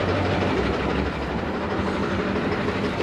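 A failed Ford 6.4 Powerstroke diesel engine running, a steady loud rumbling drone heard up close without pause or talking.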